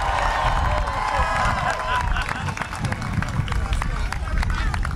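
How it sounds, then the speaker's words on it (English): A crowd at a St. Peter's University parade celebrating the basketball team's Elite Eight run claps and cheers in a steady, dense wash of applause mixed with crowd babble, loud and close throughout. "Give yourselves a round of applause"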